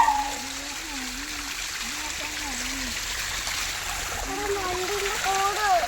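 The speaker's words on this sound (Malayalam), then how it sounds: "അടിപൊളിയാണോ പൊന്നൂസേ വെള്ളത്തിലിറങ്ങാൻ?" Stream water rushes and splashes steadily as people wade in to bathe and catch crabs, with a child's and an adult's voices speaking over the constant flow.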